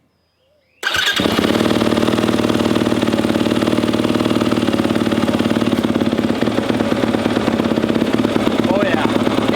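Yamaha YZ250F dirt bike fitted with an FMF 4.1 full exhaust system fires up after a moment of silence and settles into a loud, steady, close idle with a rapid even pulse that continues to the end.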